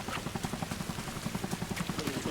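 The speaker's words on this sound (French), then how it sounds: "Je crois qu'il y a un hélico, les gars." A helicopter in a video game beats with rapid, evenly spaced rotor thumps, a steady pulsing chop at moderate level, heard alone.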